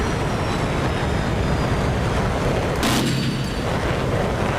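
A recoiling aircraft gun fires in a flight combat video game over Ukraine: a loud, sustained roaring rumble of rapid fire with a brief sharper burst partway through, no talking.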